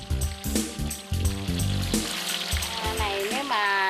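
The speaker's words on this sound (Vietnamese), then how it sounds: "물기를 빼고 바로 기름에 넣어 바삭하게 튀겨냅니다" Slices of giant banana deep-fry in hot oil in a large commercial batch, giving a loud, continuous crackling sizzle close up, with a voice briefly heard near the end.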